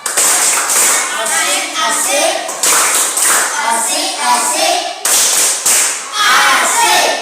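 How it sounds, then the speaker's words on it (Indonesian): A classroom of students claps for a student group in a rhythmic cheer pattern, with bursts of hand claps and taps, voices chanting along between the beats. "Mari kita beri aplaus untuk kelompok 3 boleh ya?"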